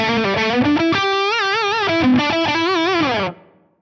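A loud, sustained electric guitar tone through an amp with preamp boost adding heavy distortion, sliding and bending notes before cutting off abruptly and fading.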